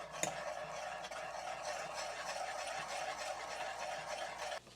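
Pizza ingredients are mixed in a bowl, a steady, close scraping and stirring with one sharp knock near the start.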